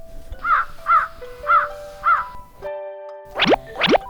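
A crow in a children's story caws four times in an even rhythm, loud and close. Two springy, cartoonish boing-like sweeps follow.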